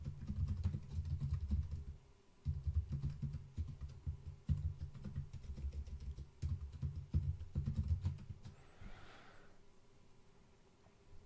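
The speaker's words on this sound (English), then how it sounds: "so I'm going to go ahead and start typing." Steady typing on a computer keyboard, rapid close key clicks in continuous bursts with a brief pause near the start, fading toward the end with no talking.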